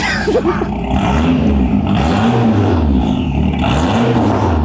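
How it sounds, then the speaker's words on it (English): A Rover car engine with a turbo revs repeatedly in rising and falling sweeps, loud and close, its pitch climbing and dropping over a steady running rumble. "You can really hear the turbo."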